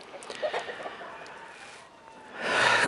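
Backyard hens feeding on poultry offal give scattered soft clucks and short calls, with a louder burst of fowl noise near the end, amid a rustling outdoor background.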